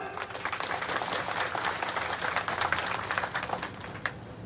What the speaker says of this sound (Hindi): तालियों की गड़गड़ाहट मेरी जनता।